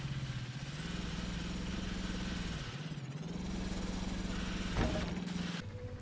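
A tractor engine in the video game Scrap Mechanic drones at a steady mid-pitched idle, throbbing evenly with a brief dip in revs partway through and a short clank near the end, heard alone and close.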